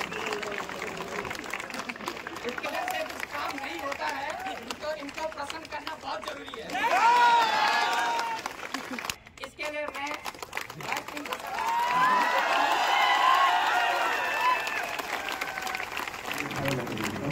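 Two waves of audience applause mixed with cheering and chatter at a Hindi Day celebration in a training institute hall, separated by a brief lull, with a voice talking over the crowd in between.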